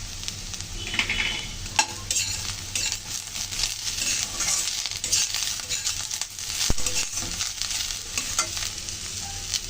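Chopped green chilli tossed into potatoes and onions frying in a pan, a continuous bright sizzle with scraping and stirring clatter of a spoon throughout, no talking.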